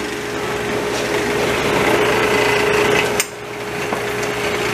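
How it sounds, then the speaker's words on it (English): A small, underpowered drill press bores slowly into wood with a plug cutter, giving a steady, strained whirring grind with a constant motor hum, close and loud, briefly easing near the end. "this drill press is a little underpowered, so I'm always on the verge of stalling it as I drill"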